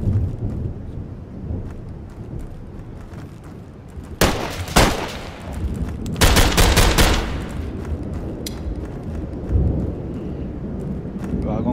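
Bursts of gunfire from the VR shooter Tactical Assault VR in multiplayer, loud rapid volleys around four and six to seven seconds over low rumbling background and occasional voices.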